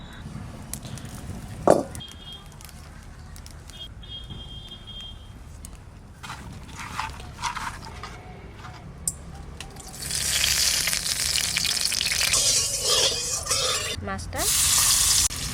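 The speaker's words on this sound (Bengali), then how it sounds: "মাছ কটা লাল করে ভেজে নিতে, এবার তুলে নেবে।" Pieces of freshly cut fish fry in hot oil in a home kitchen, a steady sizzle that swells louder and brighter toward the end, with a voice speaking briefly over it.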